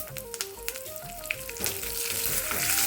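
Curry leaves and asafoetida sizzle in hot oil with a steady, close crackling hiss that swells toward the end, while faint background music plays underneath.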